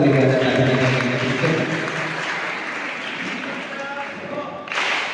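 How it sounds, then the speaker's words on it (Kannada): Loud audience clapping at an award and felicitation ceremony at a religious math, a sustained burst of applause that gradually fades, with voices mixed in and a fresh swell near the end. "ತಮ್ಮೆಲ್ಲರ ಜೋರಾದ ಚಪ್ಪಾಳೆ ಮೂಲಕ"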